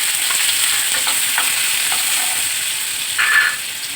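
Onions sizzle steadily in hot oil with popped mustard seeds while a spoon stirs them through the pan, a continuous loud frying hiss with a brief sharper scrape near the end, no talking.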